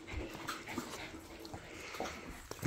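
A Husky whimpering indoors, soft, faint whines and small yips with panting scattered over a low background hum, with no clear talk.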